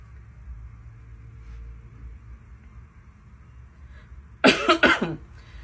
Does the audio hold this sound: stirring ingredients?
no